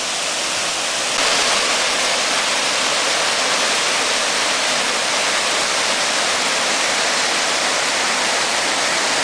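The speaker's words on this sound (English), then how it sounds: "It's a 20-foot tall waterfall." North Fork Falls, a 20-foot waterfall on Coal Creek, pours with a dense, steady roar of broadband white noise, close and unbroken throughout, with no voices.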